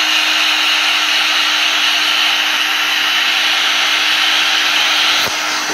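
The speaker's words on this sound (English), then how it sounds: "So what we're going to do now is to heat shrink this all around the cable, right up close." A heat gun blows a steady, loud hiss of hot air while shrinking heat-shrink tubing onto handmade speaker cable, running unbroken before cutting off near the end.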